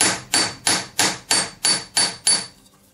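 Sharp, even hammer blows on a metal ring for a crossover basket solitaire ring, striking it back to thickness: seven ringing strikes in a steady rhythm, close and loud, each decaying before the next, with no talk.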